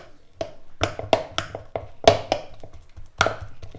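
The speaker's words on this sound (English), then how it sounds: "you will need to pop it in a bowl and you will need a fork to mush" A fork mashing a banana in a bowl, producing a series of sharp, close taps and knocks against the bowl in an irregular rhythm, with soft squishy gaps between strikes and no speech.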